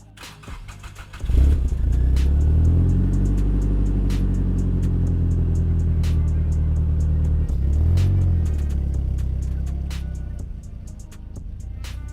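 A Nissan Silvia S15 Spec-R engine fires up after a short quiet lead-in. It holds a loud, close, steady hum with gentle rev swells, easing off slightly toward the end.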